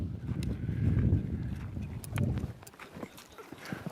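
A horse's hooves clip-clop unevenly on hard ground, close by, with a few sharp scuffs and shifting steps.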